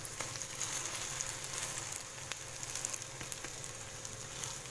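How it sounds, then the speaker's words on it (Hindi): French toast sizzles and crackles steadily in a frying pan, a constant close hiss with small pops throughout and no voices. "देखिए मेरे टोस्ट जो हैं फ्राई हो रहे हैं।"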